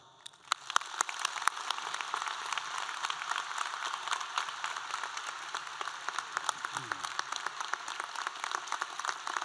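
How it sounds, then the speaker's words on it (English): Audience at a 2022 graduate commencement ceremony breaking into sustained applause for an honoree, dense clapping from many hands building quickly and holding steady for several seconds. "Please join me in a round of applause for Fred."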